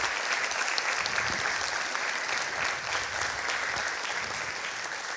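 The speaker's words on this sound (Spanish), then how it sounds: "Por favor, un aplauso para él." An audience applauds at a tribute concert for a guitar ensemble in Quito. The clapping is steady and sustained, rather distant, with no talk over it.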